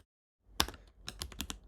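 Typing on a split computer keyboard: after a short silence, a single sharp key strike, then a quick burst of several crisp clacking keystrokes, close and clear with no talking.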